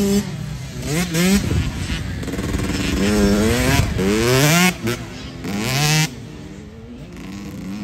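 A motorcycle restarting after a stall during a practice session, the engine revving through rising gear changes as it rides off, loud and close, then dropping away.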